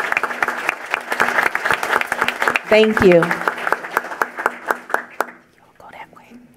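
Applause for a girls' chess team at a school board meeting builds into dense, steady clapping with sharp individual claps. A brief spoken thanks cuts in midway, then the clapping thins out and stops near the end.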